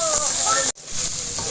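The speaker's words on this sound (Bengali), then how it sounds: "এই যে পেঁয়াজ দিলাম, দিলাম এই যে কাঁচামরিচ দিলাম," Onion and green chillies sizzle in hot oil for a tilapia curry, a steady close hiss that cuts out briefly midway and then resumes.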